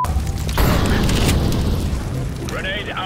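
A grenade goes off in a first-person video game, a loud broad boom that swells early and rolls on through the clip, with voices talking over the blast and the game's background noise.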